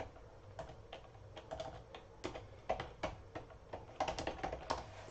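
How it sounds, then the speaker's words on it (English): Someone types on a computer keyboard in a quiet room, with a steady run of soft, close key clicks in uneven bursts and no talking. "Can't type and talk at the same time."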